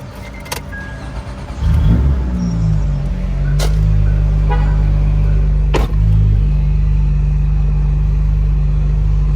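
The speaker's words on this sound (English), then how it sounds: "So we're gonna start the car up now." A 2004–2008 Acura TL engine cranks and catches after a couple of seconds, then settles into a steady, loud, close idle rumble with a few sharp clicks over it.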